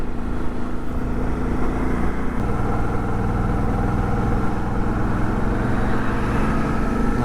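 Suzuki V-Strom 650 motorcycle engine idling: a steady, low mechanical rumble with an even pulsing throb, close and continuous, its tone shifting slightly partway through.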